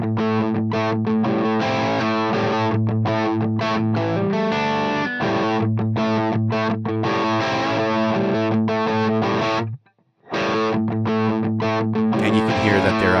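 Distorted electric guitar played through a Tonex pedal amp model, loud and continuous with strummed chords and a brief pause near the end before playing resumes.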